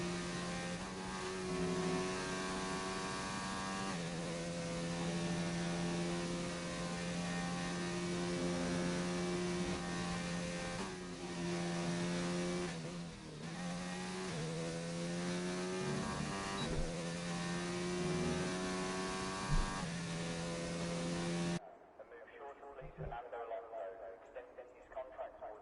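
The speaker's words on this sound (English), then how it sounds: "See Muna here warming up the tires." A race car engine in sim racing at Silverstone, warming up tires with a steady droning whine that rises and dips, overlaid by continuous commentary, then cutting to a quieter scene near the end.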